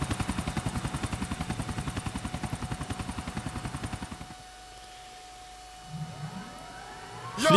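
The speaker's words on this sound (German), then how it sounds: "Steige in den Helikopter." A helicopter in the video game GTA IV gives a loud, fast rhythmic rotor thump that stops after about four seconds. A quiet pause follows, then some rising game sounds at the end.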